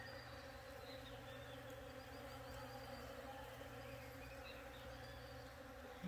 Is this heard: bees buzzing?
yes